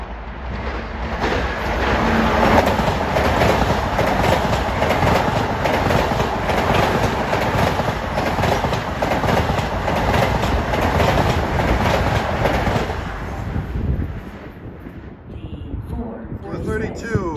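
A Long Island Rail Road train passes at Elmont with a loud, close, sustained roar and clattering wheels on the rails, then fades in the last few seconds.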